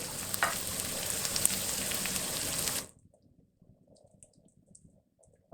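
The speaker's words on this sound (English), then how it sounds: "my onions and ginger, garlic, chili, they are all fried well here" Onions, ginger, garlic and chili sizzle and fry in a pan for beef cutlets, a loud continuous crackle that cuts off abruptly, leaving faint clicks and quiet kitchen sounds.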